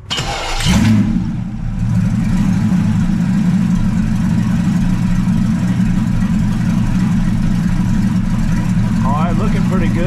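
A 1930 Model A coupe fitted with a V12 engine and power steering cranks and catches, then settles into a steady, smooth, close idle running on alone.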